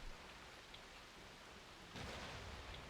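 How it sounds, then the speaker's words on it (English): Rain falls steadily in the video game Ys: Memories of Celceta as a soft, hissing wash, and a low rumble of thunder swells near the end, faint overall. "Only the sound of falling rain and constant thunderclaps were heard echoing through the darkness"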